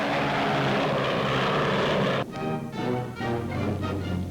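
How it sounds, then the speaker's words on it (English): A twin-engine Mosquito bomber roars loud and close with a steady propeller drone, then drops to a lower pulsing engine rumble partway through, running alone without talk. "Even when flying on only one of its powerful twin motors, Canada's Mosquito bomber carries a deadly sting."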